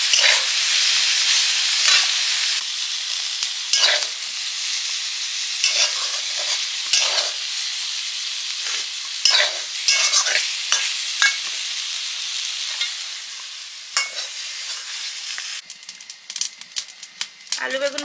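Potato and eggplant fry in oil in a pan with a steady sizzle, broken by repeated scraping strokes of a spatula stirring them. Louder clattering comes near the end.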